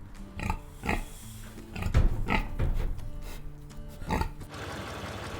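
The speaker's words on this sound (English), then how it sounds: "Repeat after me. Pig." A pig grunts and oinks repeatedly up close, a series of short, rough snorts spaced irregularly over a few seconds.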